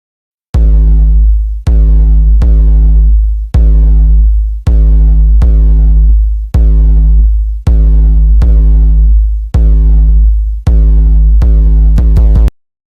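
A deep, booming trap beat bass note repeats in steady evenly spaced hits, each sustaining and decaying, with a brief quick flurry at the end.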